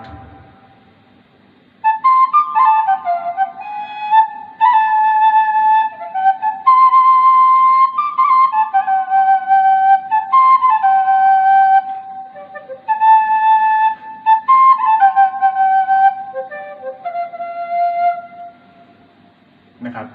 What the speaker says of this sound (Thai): อันนี้คือเสียงของคุยเรคคอร์เดอร์นะครับ